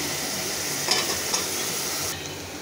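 Onion, green chili and bay leaf drop into hot oil in a kadai and fry with a loud, continuous sizzle, with a couple of brief stirring scrapes.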